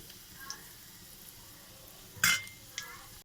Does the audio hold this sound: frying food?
yes